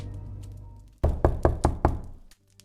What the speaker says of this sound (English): when there was a knock on the door